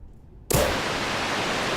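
Rocket launch in Kerbal Space Program: after half a second of near silence, a loud, steady broadband roar bursts in and holds unbroken to the end, like rushing static.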